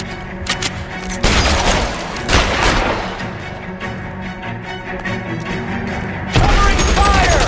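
Gunfire in the video game L.A. Noire, loud bursts of shots and booms opening and closing a stretch of dense firefight noise, with clipped shouting voices mixed in.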